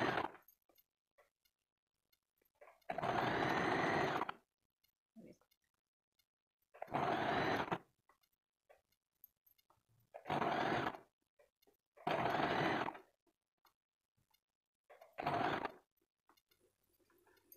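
A sewing machine stitches a belt strip for a double katori blouse, running in five distinct bursts of a few seconds each with quiet pauses between, close and fairly loud.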